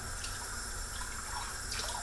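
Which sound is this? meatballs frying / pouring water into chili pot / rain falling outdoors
pouring water into chili pot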